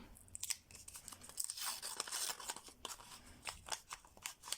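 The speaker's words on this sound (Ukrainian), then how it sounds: "Далі відкриваємо пакетик із квіточками." Crisp tearing and crinkling of a paper packet of flower confetti at close range, a few sharp rips followed by rustling handling, with no voices.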